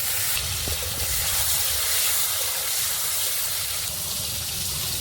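A cut tomato drops into hot oil with dried red chilli and cumin for a vegetarian banana flower curry, producing a loud, even hiss of sizzling that holds steady throughout.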